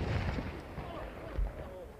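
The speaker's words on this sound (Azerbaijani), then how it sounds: "Sonda xarici səyyahlar ərazidən tapılan minaların partlayış yolu ilə zərərsizləşdirilməsi prosesini izlədilər." Landmines found in the area are detonated during demining, sounding as distant, muffled low booms: one thud early and another near the end over a steady rumbling background.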